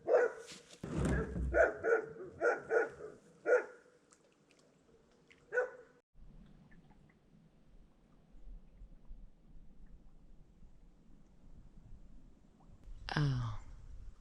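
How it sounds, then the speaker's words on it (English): A dog at a neighbouring campsite barks in a quick burst of several sharp woofs, then falls quiet against faint background hum before one last yelp near the end, moderately distant. "that dog barked at me for 10 minutes"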